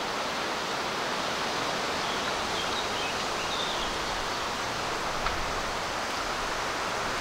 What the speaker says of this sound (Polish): Dzisiaj wieje jak cholera.